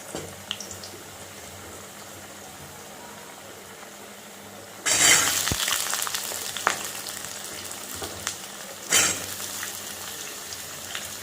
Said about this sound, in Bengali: তেলটা গরম হয়ে গেছে, এবারে আমি আস্তে আস্তে করে আলুগুলো দিয়ে দেবো।